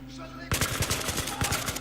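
Battlefield 3 gunfire cuts in suddenly as a rapid, evenly spaced burst of automatic shots that stays loud and close to the end.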